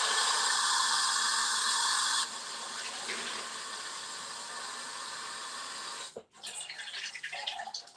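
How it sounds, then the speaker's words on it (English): A kitchen tap runs to draw clean water for rinsing art supplies, a steady close hiss of flowing water that softens partway through, then cuts off abruptly before fainter splashing and handling noises. "I'm going to get myself some clean water"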